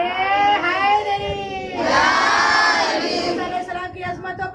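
A crowd at a Shia majlis for Imam al-Rida's martyrdom answers a Naara-e-Haidari call with a loud, sustained collective shout. Many voices roar together in a swelling chant that peaks midway and then trails off.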